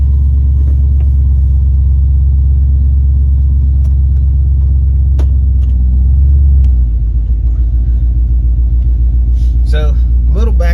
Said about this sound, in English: let's go ahead and start this truck up